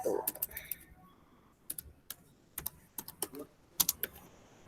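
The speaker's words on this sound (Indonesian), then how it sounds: "untuk mengirimkan tugas, Bapak Ibu tinggal mengetik judul tugasnya ada di sini" Typing on a computer keyboard during a Google Workspace training session: irregular clusters of light, crisp key clicks, close and fairly quiet, with faint background room noise.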